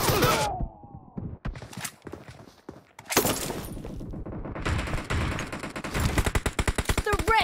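Gunfire in the PUBG Mobile team deathmatch game, with rapid automatic bursts and single loud shots crackling up close, stopping briefly, then resuming in dense volleys mixed with game sounds.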